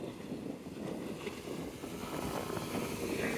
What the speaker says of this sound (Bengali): এটা স্প্রিং বোট আসতেছে খুব অনেক স্পিডে